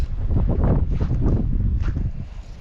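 Low, rumbling wind at the Arnasoy-Tuzkon lakes buffets the microphone in uneven gusts, fading slightly toward the end, with no voices.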